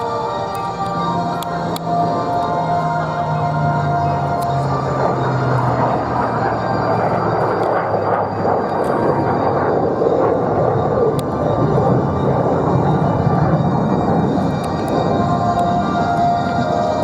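Heritage flight aircraft at the Sun 'n Fun Air Show 2024, a loud, steady engine drone that lasts the whole stretch and slowly shifts in pitch as the planes pass overhead.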